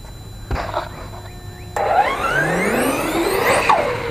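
A Tekno ET48 RC car on 6S power drives over jumps in a backyard, its electric motor whining up and down in rising and falling pitch sweeps, close and loud after a brief quieter start.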